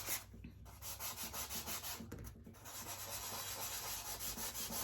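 A Dollar Tree coaster is rubbed with sandpaper in quick, rhythmic back-and-forth strokes, a soft scratchy rasp repeating close by with a short pause midway; fairly quiet, no talking.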